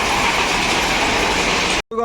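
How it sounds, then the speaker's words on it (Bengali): A ballast train unloads stones on the Nashipur rail bridge on the Murshidabad side, a loud, continuous rumbling roar close by that cuts off abruptly near the end before a brief voice. "পাথর খালি করা চলছে Nasipur rail bridge Murshidabad side"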